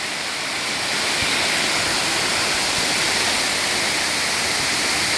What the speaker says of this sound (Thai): โอ้โหน้ำตกไซโยกน้อยน้ำเยอะจริงครับปีนี้